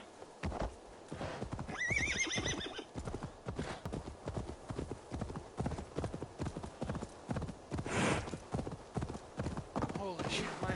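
Horse hooves clop rhythmically at a gallop in Assassin's Creed Valhalla, with a whinny partway through, under a player's talk and game sounds.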